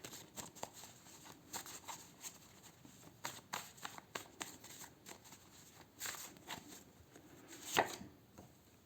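Tarot cards are shuffled by hand in a quiet room, giving a run of soft, quick riffling taps and flutters at an uneven pace, close and faint, with one sharper snap near the end and no talking.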